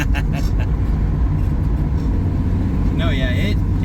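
A 1965 Ford Mustang with its stock Ford 200 inline-six engine and exhaust, driving on a road. A loud, steady, low rumbling drone holds throughout, with faint voices beneath it.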